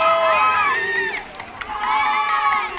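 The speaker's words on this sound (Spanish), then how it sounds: "Vamos, vamos, que están aplaudiendo." Spectators cheer and shout at a summer youth swimming championship, a continuous crowd roar with high excited voices rising and falling in two waves, close and loud, with people talking within it.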